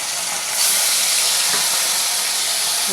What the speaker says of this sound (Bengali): ভাজতে দিলাম কড়াতে